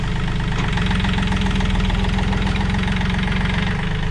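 A John Deere 5036 EN tractor engine idles steadily and close by in a field, a low, rhythmic chugging that holds even throughout with no voices.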